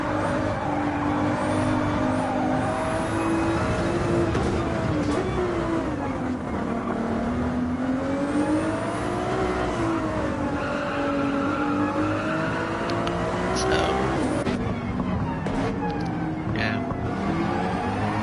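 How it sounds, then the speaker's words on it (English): Twin-turbo V6 of a Ferrari race car in a racing video game, a loud continuous engine note rising and falling through gear changes, with other cars' engines and faint tyre squeal mixed in throughout. "There's the twin-turbo V6 of the Ferrari"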